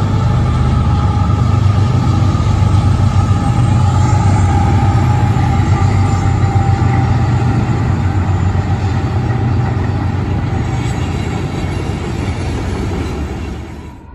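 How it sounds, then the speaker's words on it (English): A southbound Union Pacific and BNSF freight train rolls past loud and close, with a steady heavy rumble of wheels and cars that holds throughout and fades only slightly at the end. "here comes the train. Southbound, Union Pacific, BNSF."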